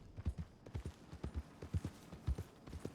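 Horse hooves clip-clop at a brisk, uneven trot in Red Dead Redemption 2, the sharp, close footfalls repeating in a steady rhythm over quiet ambience with no talking.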